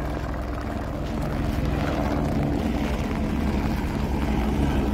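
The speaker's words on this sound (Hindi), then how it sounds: "अभी हेलीकॉप्टर यहाँ से जा रहा है सामने" Helicopter departing at Kedarnath in the mountains, a steady droning rotor and engine rumble that holds loud and continuous without talk.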